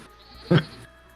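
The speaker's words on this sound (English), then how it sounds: "with the goats and the sheep" A single short bleat from a goat or sheep on a springtime farm, close and fairly loud against a quiet background.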